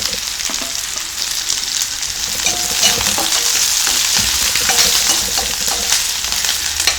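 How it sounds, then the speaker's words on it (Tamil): Onion and green chili sautéing in oil for rava kichadi, a bright continuous sizzle close by with occasional spoon stirring and light clinks, steady throughout with no voices. "வெங்காயம் ஓரளவுக்கு நல்லா வதங்கட்டும்"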